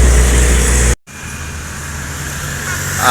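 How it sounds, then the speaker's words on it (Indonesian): A bus of the NPM fleet from Rana Minang, a V16 unit, rolls past on the road with a steady engine and traffic rumble, briefly cut out near the start, then swelling again at the end. "Ini ada unit lagi ya bus."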